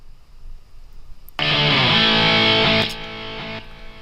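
Electric guitar played completely dry with the reverb removed: a single strummed chord rings out sharply after a quiet start, sustains about a second and a half, then drops to a softer decaying tail, with no room ambience.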